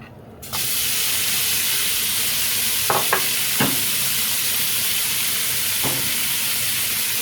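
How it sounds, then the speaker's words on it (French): Lardons dropped into hot fat in a frying pan burst into a loud, sudden sizzle that continues steadily, with a few sharp clinks of the pan or utensil scattered through, no voices. "dans une poêle, j'ai mis de la matière grasse. Voilà. Et je vais y mettre mes lardons."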